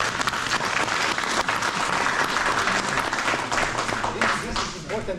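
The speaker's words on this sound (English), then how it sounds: "And always in the end you give the applause." A group claps after a kata demonstration, a loud sustained round of applause with a few voices mixed faintly underneath.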